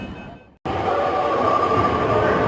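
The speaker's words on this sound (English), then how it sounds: "In true Beijing style, we're on the subway now" Steady, loud rumble of a Beijing subway train in motion, a dense broadband roar that cuts out abruptly for an instant and then resumes at full level with no talking.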